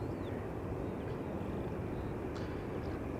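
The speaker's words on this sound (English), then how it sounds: "787-10 Dreamliner" A KLM Boeing 787-10 Dreamliner takes off at Schiphol's Polderbaan, a broad, steady jet roar heard from a distance without a clear rise or fall.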